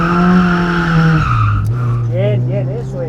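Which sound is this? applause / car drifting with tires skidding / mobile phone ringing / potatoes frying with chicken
car drifting with tires skidding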